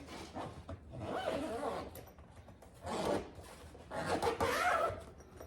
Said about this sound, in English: I like to set it down this way so that I can just bring the zipper over everything.